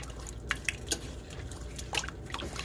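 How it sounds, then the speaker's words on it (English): A spoon stirs brown sugar, corn syrup and salt together in a pan for caramel popcorn, giving a few faint, soft wet clicks and squishes spread over a couple of seconds. "Give that a little stir."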